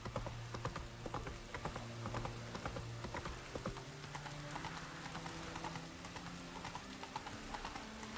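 A horse gallops in The Witcher 3 video game, its hooves beating a steady, quick clip-clop throughout, fairly quiet overall with faint tonal game music underneath.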